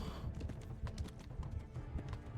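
Horse hooves clip-clop in the Kingdom Come Deliverance video game, a steady run of soft rhythmic hoofbeats over a low continuous rumble, fairly quiet throughout.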